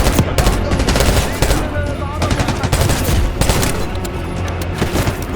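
Heavy rapid gunfire in Call of Duty: Black Ops 6, loud sustained automatic bursts and rattling shots overlapping with booms in a dense firefight, with voices shouting amid the noise.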